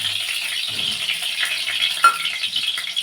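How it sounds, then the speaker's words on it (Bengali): Hot oil sizzling and spattering in a wok while cooking, a steady crackling hiss over about three seconds with a brief sharp clink partway through, close up and without talk. "কড়াইতে তেল গরম হয়েছে"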